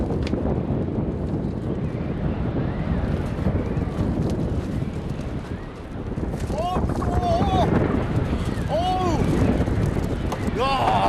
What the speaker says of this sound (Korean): 단단하게 언 명태가 바람을 타고 요란한 소리를 만들어내는데요